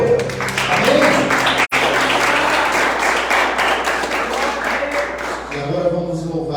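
Church congregation applauding during a Portuguese-language evangelical service, with dense, sustained clapping across the room and voices mixed in, broken by one brief dropout near the start.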